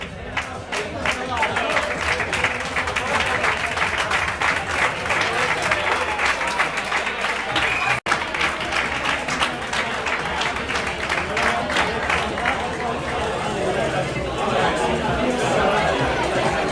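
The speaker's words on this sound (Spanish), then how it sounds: "Un fuerte aplauso para estos chicos" Outdoor crowd at a mountain race award ceremony in Losar claps steadily and at length, with loud chatter and scattered cheers running under the applause throughout.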